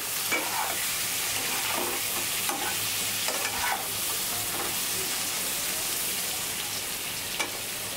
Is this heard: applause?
no